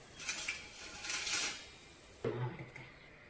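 Cooked snack mixture for South Indian Diwali mixture is scooped into a metal vessel, with soft scraping and a sharp metallic clink and rattle near the end, close and quiet.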